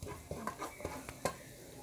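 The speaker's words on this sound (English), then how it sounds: "Now the garlic is already fried." Garlic frying in a pan for an Asian chicken curry, a steady soft sizzle broken by a few sharp scrapes and clinks as it is stirred, close and moderately quiet.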